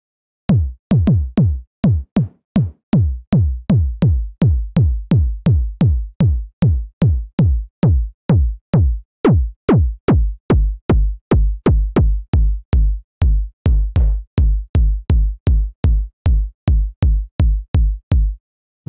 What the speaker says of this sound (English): probably my favorite is the 909 kick